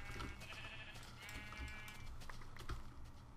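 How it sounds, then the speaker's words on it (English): Sheep bleating in a snowy Minecraft world, several wavering calls close together, with faint clicks underneath. "A bunch of sheep. Let's get the sheep again."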